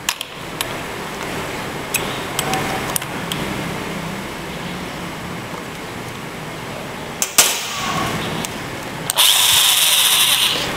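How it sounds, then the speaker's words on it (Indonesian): A handheld power drill in an automotive engineering workshop runs steadily with a whirring motor drone, punctuated by clicks and a few sharper bursts, then a louder high-pitched whine near the end. "Kemudian ada beberapa jenis bor yang memiliki fitur forward and reverse switch"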